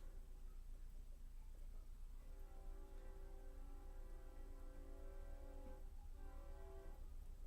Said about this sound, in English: There's that train I always do like.